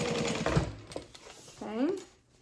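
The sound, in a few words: sewing machine basting backpack fabric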